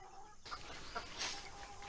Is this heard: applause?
no